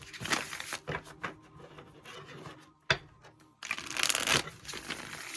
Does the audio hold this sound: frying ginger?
no